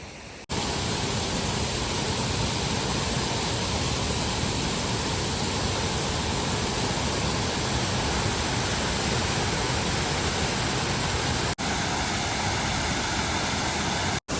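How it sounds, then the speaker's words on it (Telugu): A constant, dense roar of the Janailar waterfall near Cherrapunji pouring, loud and unbroken from start to finish, with no voices. "జనాధర్ వాటర్ ఫాల్ చాలా చక్కగా నీళ్ళు అయితే పారుతుంది"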